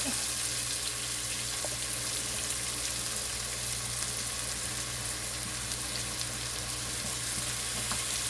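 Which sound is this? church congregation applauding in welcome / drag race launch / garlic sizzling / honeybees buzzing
garlic sizzling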